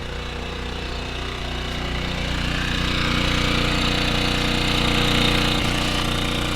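A Gentrax 1.2kW pure sine wave generator runs about a metre from its exhaust under a shelter with slight echo, a steady close engine drone with a rapid low pulsing throb, holding level throughout with no talking.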